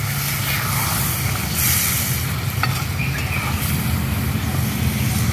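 Chicken sizzles and crackles steadily in a hot pan after a little water is poured over it while cooking Bengali coriander chicken, a loud continuous hiss with no talking.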